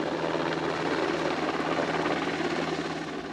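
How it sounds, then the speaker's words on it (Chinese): A helicopter arrives at a village-plaza flood-response drill with a rescue team aboard, its rotor and engine making a loud, steady, close drone with no voices over it. "直升机帅气入场"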